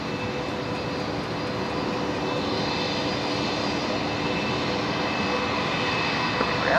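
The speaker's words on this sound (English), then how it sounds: "There's the special liveried Fokker 70 and the special silver livery." A Fokker 70 airliner with a special silver livery at Brisbane Airport, its engine roar steady and broadband, heard from a distance and holding at a constant level with a slight swell at the end.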